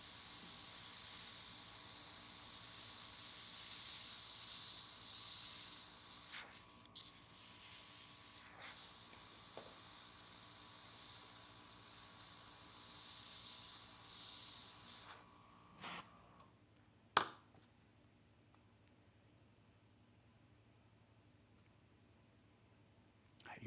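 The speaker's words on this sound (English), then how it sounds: "Again, I'm spraying on the stencil." Quiet, steady hiss of an airbrush spraying paint onto a stencil for nail art in short bursts, then it stops, followed by a few faint clicks and near silence.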